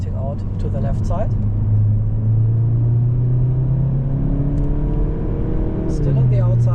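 A VW Golf 7.5 GTI engine pulls hard out of a left-hand corner on the Nürburgring Nordschleife, a loud steady in-cabin drone rising in pitch, with someone talking over it.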